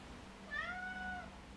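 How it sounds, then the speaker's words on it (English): A cat gives a single drawn-out meow in a quiet home, fairly near and alone, with no talk over it. "Meow to you, little pussy cat."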